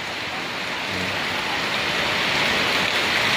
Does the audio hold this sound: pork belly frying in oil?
no